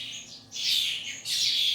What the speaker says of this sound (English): There are 70 fledglings in here, ranging from dunnocks to starlings, blackbirds to various finches